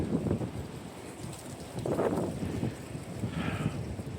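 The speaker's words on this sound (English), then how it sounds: "It's super windy here, too." Strong gusting wind outdoors on a very windy day in Niles, Michigan, a loud, continuous rumbling roar buffeting the microphone with surges and no talking.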